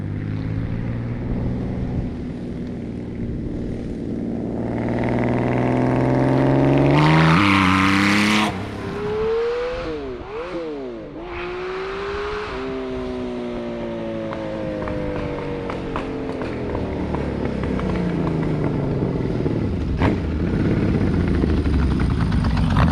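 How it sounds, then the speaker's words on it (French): A Honda CBX 1000 six-cylinder motorcycle engine runs close by, idling and then revving hard in rising and falling sweeps before settling back to a smooth, throaty idle. "Putain, le bruit il est quand même magnifique de cette moto. 6 cylindres sur une moto."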